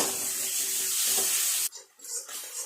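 Spice paste for katla fish kalia with Kashmiri chilli powder and garam masala, sizzling loudly and steadily while being stir-fried, then abruptly dropping to a few softer scrapes and crackles.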